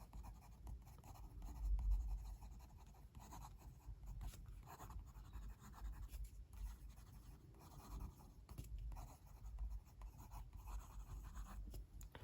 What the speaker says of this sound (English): And this pen writes beautifully with it.